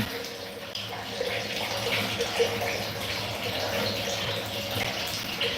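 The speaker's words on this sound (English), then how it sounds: "You hear all that water running in there?" Water runs steadily through toilets and sinks in a building's plumbing, a continuous hissing, gushing flow heard close up without pause.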